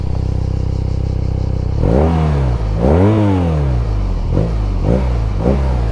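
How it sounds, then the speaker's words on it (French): A BMW R nineT Pure motorcycle engine idles steadily, then revs up hard several times in quick bursts, loud and close, with the exhaust pitch rising and falling. "je vais vous faire écouter le son de la ligne"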